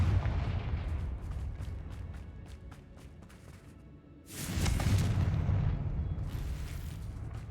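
In Hogwarts Legacy, the Confringo blasting spell goes off: a muffled crackling rumble, then a sudden loud booming explosion that roars and slowly trails off, with game ambience around it.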